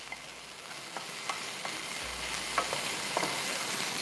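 Garlic ginger paste is stirred into softened onions in a hot pan, with a low steady sizzle and occasional soft scraping and clicking of the spoon against the pan.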